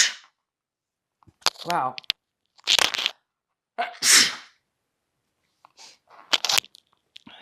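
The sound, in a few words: sneeze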